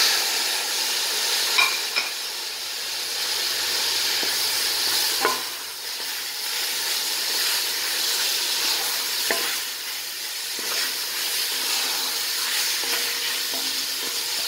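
Tomatoes fry in a pan for meat kabsa with a loud, continuous close-up sizzle and crackle, plus occasional soft stirring scrapes and clicks, steady throughout without any speech.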